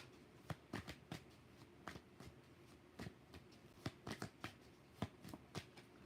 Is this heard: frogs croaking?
no